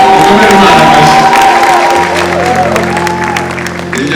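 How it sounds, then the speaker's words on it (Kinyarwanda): A crowd at a church celebration applauds loudly, a burst of clapping and cheering close by that tapers off, with a voice and sustained tones over it. "Dukomere Imana amashyi."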